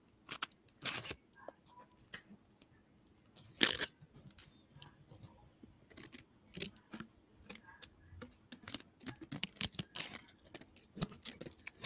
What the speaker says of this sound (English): So we're going to spend the next few minutes cutting, and flipping.